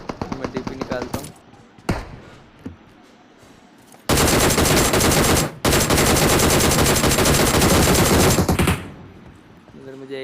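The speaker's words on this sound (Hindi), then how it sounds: "फिर मेरे को हल्की सी एक फायर की आवाज़ आती है" Gunfire in a battle royale game: loud sustained automatic bursts and sharp shots, with a long heavy stretch of rapid fire in the middle, alongside some speech early on.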